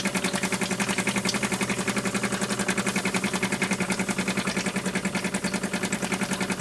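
A small steam engine chugs steadily with a fast, even rhythmic beat, mechanical and continuous, with no voices.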